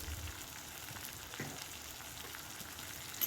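Chopped nalleru (hadjod) pieces fry in a pan with oil, giving a steady, soft sizzle and crackle that comes from close by and has no voices over it.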